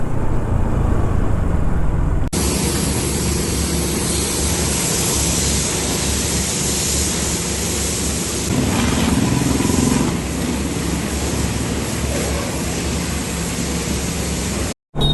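A Bajaj NS200 motorcycle is washed with a water spray, giving a loud, steady hiss of jetting water that runs almost continuously for over ten seconds before cutting off abruptly.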